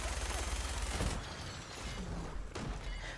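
Machine gun fire in the video game Fallout 4, a dense burst of rapid shots for about a second, then scattered loud booms and rattling.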